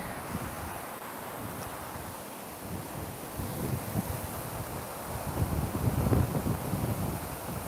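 A swollen stream running high near its bank beside a narrow path rushes steadily, a broad continuous wash that grows slightly louder toward the end, with some wind buffeting.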